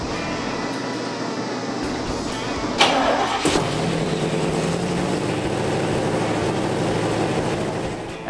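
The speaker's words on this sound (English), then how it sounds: "we hit the key and it fired right on" A 1969 Camaro SS396 big-block with a freshly installed Edelbrock top end cranks briefly and fires on the first try, then settles into a steady, rumbling idle nearby.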